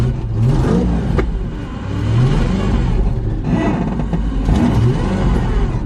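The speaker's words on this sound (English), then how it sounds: "you can see it pulsing as I rev it" A car engine with a failing power steering pump revs in pulsing surges, rising and falling several times at close range, a steady mid-pitched whir beneath it.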